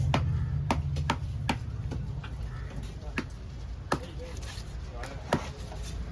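A big trevally fish is hacked with a knife at the Kasimedu fish market: a dozen or so sharp, close chops land at irregular intervals over a low background murmur.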